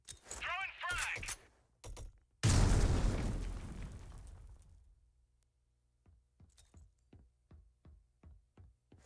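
A frag grenade blows up in a Call of Duty match, one loud, close boom that rolls off over about two seconds, with speech before it and quick faint footsteps or clicks after.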